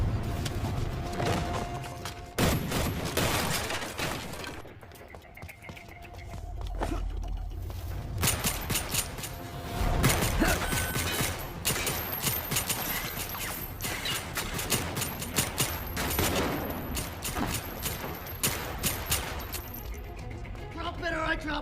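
A film gunfight plays out with bursts of gunfire, crashes and impacts amid music and shouted dialogue, dense and loud throughout with a brief lull near the middle.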